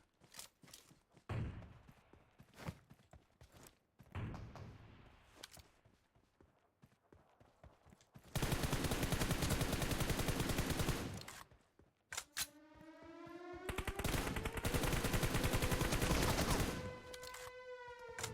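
Shotgun blasts go off in a PUBG Mobile match, loud sharp reports with bursts of rapid fire. Dense stretches of shooting mix with layered game effects.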